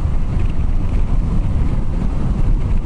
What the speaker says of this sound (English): The wind rushes over the helmet better.